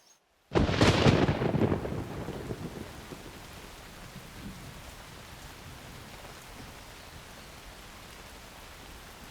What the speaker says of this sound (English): This rain is absolutely miserable.